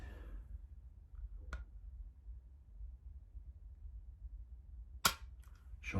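Dry-firing an unloaded gun gives a faint trigger click, then after a quiet pause a sharper, louder metallic snap with a small follow-up rattle, close by in a quiet room.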